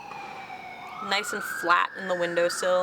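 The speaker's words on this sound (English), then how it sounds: "Sorry about the sirens." Police siren passing outside open windows on a windy, rainy day, its wailing tone rising and holding loud and near while someone keeps talking over it.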